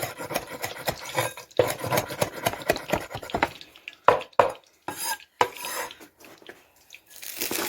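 Peppers and rosemary in olive oil in a pan, being cooked alongside grilled entrecote steak, heard as brisk scraping and stirring strokes over a light sizzle, close, with short gaps of near silence.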